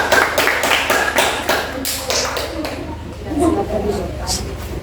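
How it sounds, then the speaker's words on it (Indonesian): Classroom of students clapping for group 3, a short burst of quick rhythmic claps near the start that fades into murmuring voices and room chatter. "tepuk tangan dulu untuk kelompok 3"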